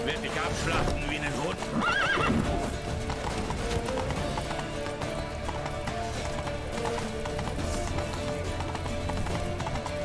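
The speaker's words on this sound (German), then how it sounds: "Warum hört das Pferd jedes Mal auf, um zu galoppieren?" In The Witcher 3, a horse neighs loudly near the start and its hooves clip-clop rhythmically while galloping, set against game music and a voice commenting.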